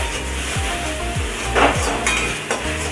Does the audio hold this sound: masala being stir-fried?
yes